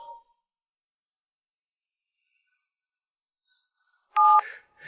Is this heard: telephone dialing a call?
yes